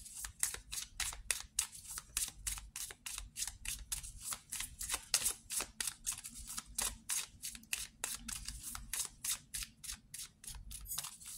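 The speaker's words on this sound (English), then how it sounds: "let's take some cards from this deck" Cards are pulled from a tarot deck and shuffled, giving a rapid run of crisp riffling snaps, close and quiet, that repeat in quick bursts with no talking.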